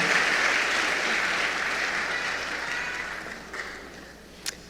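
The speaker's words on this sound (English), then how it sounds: "Shall we give her a round of applause?" Applause from a crowd at a high school senior assembly, thick and steady at first, then slowly thinning and fading, with a few sharper isolated claps near the end.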